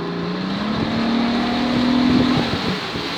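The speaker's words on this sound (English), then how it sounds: "So the more power, you'll hear the engine." A boat engine revs up steadily as the throttle lever is pushed forward, its drone rising in pitch and holding high before easing off, loud and close with no talking.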